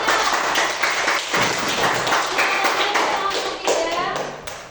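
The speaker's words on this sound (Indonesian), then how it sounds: "tepuk tangan untuk kelompok 3" Classroom students clap for a group's presentation, a dense patter of many small hands that rises and thins over a few seconds, with children's voices and scattered thumps mixed in.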